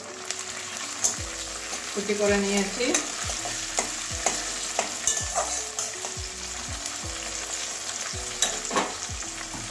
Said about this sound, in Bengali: পেঁয়াজ ভাজা হয়ে গেছে, এবারে একটা টমেটো কুচি দিয়ে দিচ্ছি।